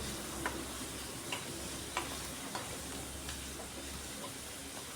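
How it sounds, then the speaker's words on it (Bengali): Chopped onion frying in oil until crisp, a quiet, even sizzle with light scraping ticks from stirring at regular intervals, close by, with no one talking. "পেঁয়াজটাকে মুচমুচে করে ভাজবো।"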